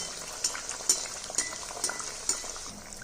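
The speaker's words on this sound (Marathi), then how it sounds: "मध्यम गॅसवरती छान असं लालसर होईपर्यंत आपण याला तळून घेणार आहोत" Poha snacks deep-fry in hot oil over medium heat, a soft continuous bubbling hiss broken by about six sharp little pops or clinks at roughly half-second intervals, close and quiet.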